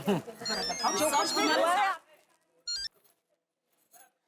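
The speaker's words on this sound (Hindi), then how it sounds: "एक बार दया भाभी से फोन करके बात कर लो" A telephone in the Taarak Mehta Ka Ooltah Chashmah sitcom gives two short, bright ring bursts in near silence, right after a stretch of people talking.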